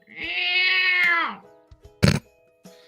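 A person imitates a cat begging for food with a long, drawn-out, clearly voiced meow lasting over a second, followed by a brief noisy burst and faint sounds.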